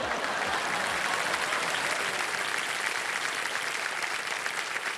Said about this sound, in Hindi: और ताली उधर बज जाती है।